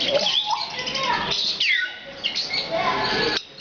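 A pet cockatoo and an African grey parrot make loud harsh squawks and chirpy whistled calls close to the microphone, overlapping one another in busy bursts, with no talking during the calls.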